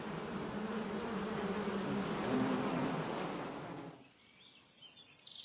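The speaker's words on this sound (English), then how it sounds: "the worker bees seal them with a waxen lid" Honey bees buzz in a continuous, fairly loud hum near the comb, then the drone drops away abruptly, leaving a much quieter, thinner background.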